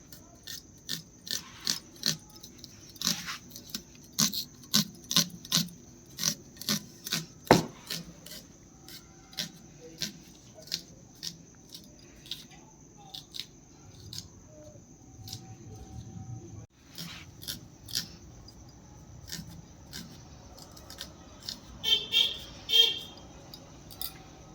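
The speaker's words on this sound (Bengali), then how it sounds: "ভালো মতন কুচি কুচি করে কাটবো।" Knife finely chopping onions on a board for Bengali handi mutton, a long series of quick sharp taps in uneven bursts with pauses, close and fairly soft.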